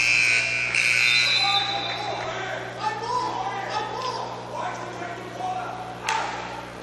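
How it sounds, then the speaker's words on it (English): A loud electronic buzzer sounds unexpectedly in a boys' high school basketball game, a sustained blare at the start that cuts off, followed by gym noise and a commentator talking. "Inadvertent buzzer, don't know reason why."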